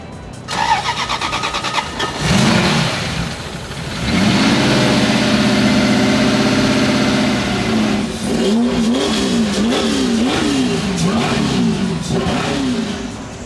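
A drift car fitted with an Eaton supercharger taken from a Ford SVT cranks and fires up, then revs hard and loud and close, its pitch swinging up and down in repeated throttle blips.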